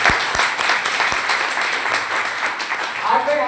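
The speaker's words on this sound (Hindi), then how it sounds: "तो ऐसी कंपनी के लिए एक बार जोरदार तालियां।" An audience breaks into hearty applause for a company, dense clapping that holds steady with scattered louder claps near the start, and a voice begins speaking over it toward the end.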